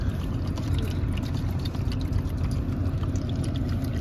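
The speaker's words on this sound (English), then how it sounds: "pour it in here" Water pours steadily at football practice in a continuous splashing rush, close and fairly loud, with no pauses or voices.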